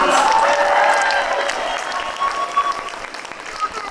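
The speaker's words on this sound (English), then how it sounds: "Give Michael Bian a big hand of applause" An audience at the APIC Democracy Summit 2024 applauding a speaker, with a loud burst of clapping and crowd noise that gradually thins and fades, with voices audible underneath as it dies down.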